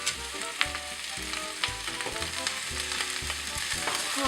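Greens sauté in a frying pan with a steady close sizzle, and tosses and stirs in the pan come through as a series of soft rhythmic bursts, with no talking.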